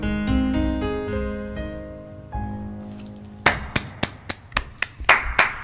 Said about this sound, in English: I got so emotional I forgot that I was clapping in front of the microphone